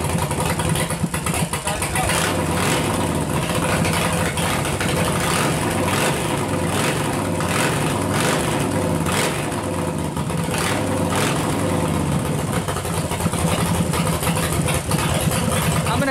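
A chopper motorcycle engine starts and settles into a steady, loud, continuous idle, the rumble carrying through the whole stretch with no talk over it.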